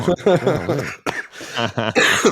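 Someone recovering from an illness coughs several times in close succession, harsh and close, mixed with throat clearing and a bit of talking.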